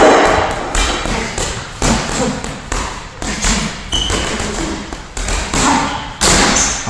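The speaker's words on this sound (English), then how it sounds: "Short, quick punches, just to get the looseness, speed, fluidity in my hands." Short, quick punches land on a heavy bag in a steady run of dull thuds, a dozen or so evenly spaced impacts, close and fairly loud with no talking.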